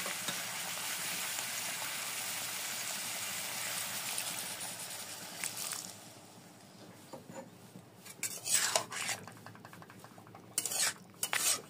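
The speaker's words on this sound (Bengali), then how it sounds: "এবার সব ভালো মতো একসাথে নাড়িয়ে নেব" Vegetable khichdi spices and a little sugar are stirred in a pot over a soft steady sizzle, then a spoon scrapes and clinks against the pot in scattered, faint strokes.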